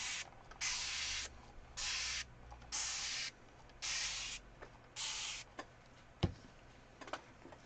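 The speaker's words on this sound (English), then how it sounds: "And I'm just re-spraying them." A spray bottle mists a set of erasers in five even, hissing bursts, each about half a second long, followed by a sharp tap and a few light clicks, close and without talk.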